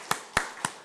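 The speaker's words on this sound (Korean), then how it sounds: "자 박수 한번 칩시다" Three sharp, evenly spaced hand claps from a church congregation at a Sunday worship service, crisp and fairly close, with no talking over them.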